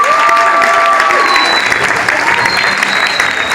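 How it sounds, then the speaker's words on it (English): Loud, steady crowd applause fills the whole stretch, dense and continuous, with a few whistles and voices cutting through near the start and middle. "Let's give them a round of applause."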